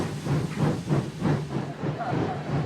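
Steam engine Gordon hisses steadily in a broad, continuous wash of noise with soft periodic surges, heard alone with no talk.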